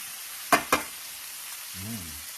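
Garlic butter shrimp with calamansi sizzle in a pan, a steady soft hiss beneath two sharp close clanks of a utensil and a brief low hum near the end.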